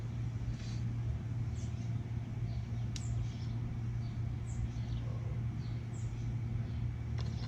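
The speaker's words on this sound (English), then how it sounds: "This motor is running." A running GM motor paired with a GM transmission hums in a steady, quiet, low drone, with faint bird chirps scattered over it.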